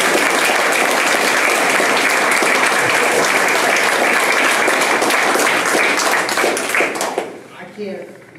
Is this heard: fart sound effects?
no